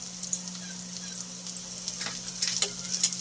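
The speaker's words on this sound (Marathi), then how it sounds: "कांदा तेलात आपण घेतलेला आहे" Onion, coriander and spices frying in hot oil for a spicy black-masala chicken rassa, a soft steady sizzle with a few light crackles and stirring scrapes near the end.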